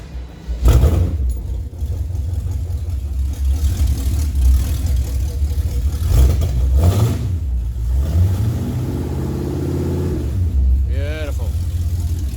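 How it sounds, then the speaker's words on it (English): Cold first start of a car engine running straight-out extractors, with a loud burst on cranking, rough idle and blips of throttle that rise and fall, and voices speaking over it. "But now I'm going to give this little girl her first start with basically straight out extractors."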